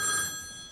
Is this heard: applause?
no